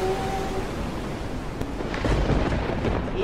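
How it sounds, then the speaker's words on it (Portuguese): Thunderstorm effect with rumbling thunder and steady rain-like noise, a dull crack near the middle and a louder rolling swell toward the end, dense and continuous throughout. "Olha que temporal!"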